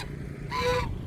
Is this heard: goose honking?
yes